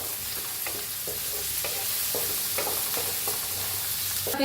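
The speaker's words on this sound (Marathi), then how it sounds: "आपल्याला कांदा हलवून घेऊया" Chopped onion fries in a hot pan while a spoon stirs it, the constant sizzle broken by regular scraping strokes close up.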